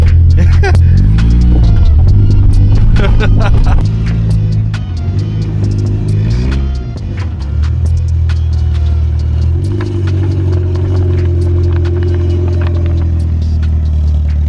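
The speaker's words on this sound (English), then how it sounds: "Off-roading in behind Wal-Mart." A Honda CR-V engine rumbles and revs while driving off-road on rough ground behind a Walmart, its low drone shifting pitch as it strains, with voices talking over it inside the car.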